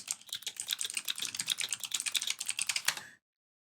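Rapid typing on a computer keyboard while entering a search, a close, dense run of key clicks lasting about three seconds before stopping abruptly.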